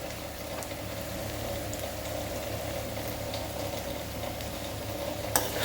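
Bottle gourd and chicken egg pulusu curry simmers in a covered pot, giving a steady, even bubbling hiss with no talk, plus one brief clatter near the end.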